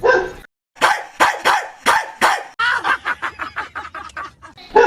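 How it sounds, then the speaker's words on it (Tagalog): A household dog barks in a rapid, noisy series of loud, close yaps, with a denser burst of quicker barks near the end. "Ang ingay pa ng aso namin"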